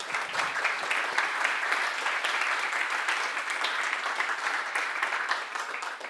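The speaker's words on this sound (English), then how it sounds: "I think that deserves a round of applause." Conference listeners at a technical talk on open-source language models give a round of applause, with even, close-packed clapping that stays at a moderate level throughout.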